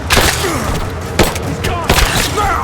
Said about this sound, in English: Open fire! I'm taking fire!